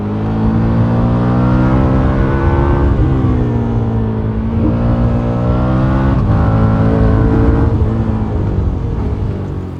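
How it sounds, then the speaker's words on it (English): A 2024 KTM 1390 Super Duke R EVO motorcycle engine and exhaust hum with steady harmonics, rising and falling through several throttle swells during a country road ride, loud and close with wind noise throughout. "when you rev it up a little bit higher, when the exhaust heats up a bit, it starts sounding a bit more like an Akrapovic"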